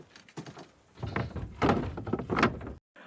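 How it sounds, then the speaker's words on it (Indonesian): A door being shut and locked, giving several loud thunks and scraping clatters of wood and metal close by, with a final heavy knock before a sudden cutoff. "Dan Sir San mengunci pintu."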